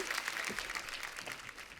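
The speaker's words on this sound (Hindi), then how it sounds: "जोरदार तालियां हो जाए एक बार जीनत जी, अनीता जी के लिए और पूनम जी के लिए" A studio audience claps for guests Zeenat Aman, Anita Raj and Poonam Dhillon at a talk show, a soft, fairly distant wash of applause that fades slightly toward the end.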